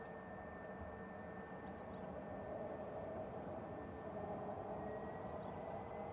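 Etihad Boeing 777-300ER jet arriving at Manchester Airport on runway 05 right, a steady distant engine roar with a faint whine, holding level throughout with no talk.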